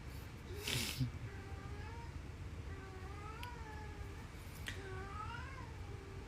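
A cat's repeated plaintive meows, several drawn-out cries spaced across a few seconds against a steady low room background, with no talking.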